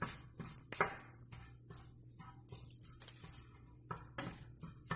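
A spoon scrapes and clinks against a pan while bay leaf, cloves, peppercorns and cardamom are stirred in hot oil for egg curry; the taps are quiet, scattered and irregular.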